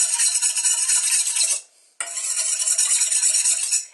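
A spoon stirs yeast and agave syrup together in a bowl, giving a steady bright scraping clink that pauses briefly midway before resuming, close and alone.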